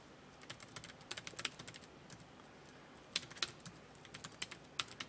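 Rapid typing on a computer keyboard while data is entered into an Excel spreadsheet, with close, crisp key clicks in irregular bursts and short pauses and no talking.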